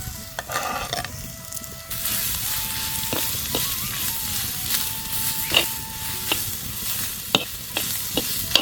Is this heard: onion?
yes